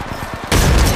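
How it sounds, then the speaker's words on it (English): Rapid automatic gunfire erupts in Apex Legends Mobile, a dense loud burst of shots that follows a half-second of quieter, rhythmic pulsing. "Opening fire."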